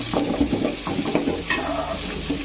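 Chopped onions dropped into hot oil in a pan while a fish curry is cooked, giving a busy close sizzle with stirring scrapes and clinks running throughout.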